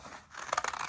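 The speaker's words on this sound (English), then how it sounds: "I'm going to cut over here," Scissors snip through paper for a photo booth prop, a quick run of several close, crisp cuts after a short quiet pause.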